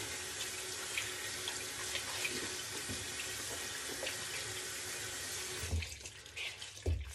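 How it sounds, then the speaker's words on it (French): Tap water runs steadily into a sink while a washcloth is rinsed, a close hissing stream that breaks near the end into splashing and wringing noises. "j'ai besoin de rincer un petit coup mon gant"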